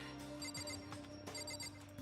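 Doorbell ringing in the video game Danganronpa: an electronic chime of repeated bright tones pulsing twice over a low steady background hum, faint and without talk.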